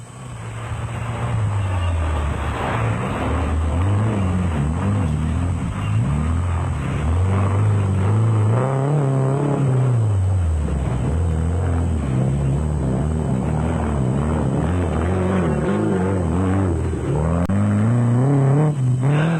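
Off-road race vehicles, among them a Castrol Toyota Hilux 2.7i, driving in the 2003 Sun City off-road race in South Africa; a steady loud engine drone with rising and falling revs runs throughout.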